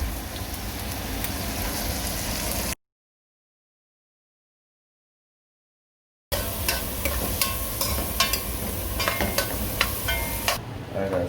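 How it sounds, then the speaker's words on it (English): Carrot, corn and scallion fry in a pan for Guyanese fried rice, a close, crackling sizzle with scraping stirs, interrupted by a stretch of dead silence before the spattering resumes with sharper pops. "now we're gonna cook up our vegetable to put in our fried rice"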